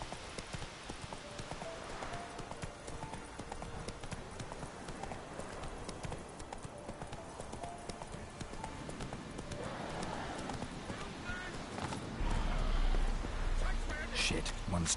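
Hooves of the horse Roach galloping in a video game, a steady rapid clip-clop rhythm kept up throughout, with a voice talking over it and a louder rumble near the end.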